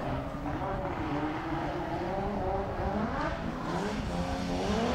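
A roughly 200 hp BMW drift car with an M52 2.8 engine launches off the line at a Drift Cup round, engine droning and rising in pitch under continuous commentary, loud and steady throughout.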